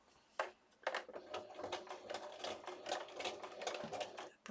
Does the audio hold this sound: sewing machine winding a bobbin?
yes